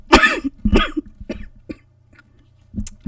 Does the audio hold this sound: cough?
yes